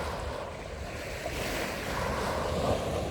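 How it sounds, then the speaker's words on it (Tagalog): Ocean surf washes steadily onto a shore at night near Repulse Bay, Hong Kong, a soft continuous roar with gentle swells, mixed with light wind noise and no voices. "Tapos naririnig ang tunog ng alon."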